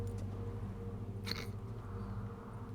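A cat gives a single short meow partway through, set against a steady low in-game ambient hum in The Witcher 3.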